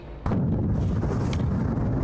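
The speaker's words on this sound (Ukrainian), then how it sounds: "починає палати один із найбільших російських складів із боєприпасами" A heavy blast bursts from a burning Russian ammunition depot, a sudden loud boom followed by a sustained deep rumbling roar with a fainter secondary pop, at a distance and with no talking.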